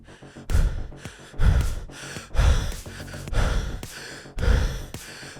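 A voice imitates heavy, out-of-breath panting: loud, close gasping breaths in an irregular rhythm of about five big heaves, with no words spoken.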